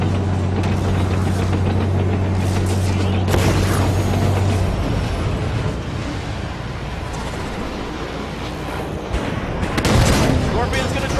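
Gunfire and heavy booms during a Halo 5: Guardians battle, loud and continuous with dense bursts, a low rumble and a sharp blast near the end.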